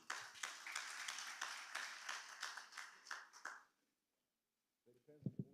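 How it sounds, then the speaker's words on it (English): An audience claps for a reverend at a youth event: a dense burst of hand-clapping for about three and a half seconds, then silence, then a person speaking. "We can give the Rev a much better clap than that."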